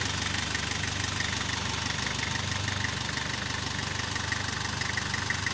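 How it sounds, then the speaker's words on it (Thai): A car engine idles steadily during a ten-minute warm-up at a low, even rumble with a faint rhythmic knock, continuous and unchanging throughout. "อ็วอร์มเครื่องไว้มาสักสิบนาทีครับ"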